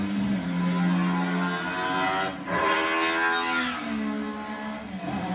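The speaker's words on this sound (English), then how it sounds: "listen to that engine" A vintage Tamiya Toyota Tom's FF01 RC car engine revs hard and loud, its pitch climbing and falling through several surges, close by, with no talking.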